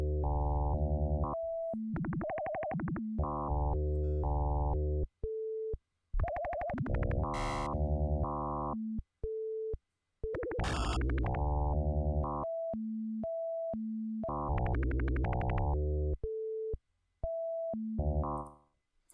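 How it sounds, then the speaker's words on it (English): A Max/MSP procedural audio patch produces R2D2-like robot chatter, rapid bursts of bright melodic beeps and chirps stepping between pitches, with short pauses and sweeping warbles, loud and close. "this R2D2 effect was also taken from Andy Farnell's book"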